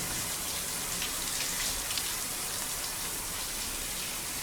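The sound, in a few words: shower water running in video game Death Stranding 2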